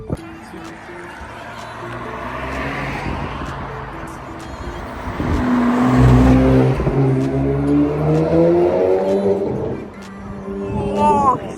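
A 700 bhp Audi RS4 with a Milltek exhaust revs and accelerates, its engine swelling into a louder roar midway before easing off, with people talking over it.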